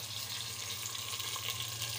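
Onions fry in a pot for chicken pulao, a steady, faint sizzle that hisses continuously with no talking over it.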